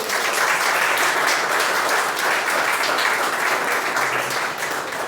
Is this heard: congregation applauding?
yes